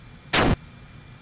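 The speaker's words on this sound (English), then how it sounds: "drag in our asteroid explosion sound" A single loud, sharp explosion burst for an asteroid being destroyed in an Asteroids-style video game, lasting about a quarter second, with a faint click afterward and no talking.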